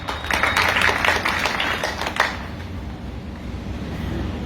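Thin, scattered clapping from a small audience of about ten people at a Hindi public talk, loudest in the first two seconds before fading to near silence.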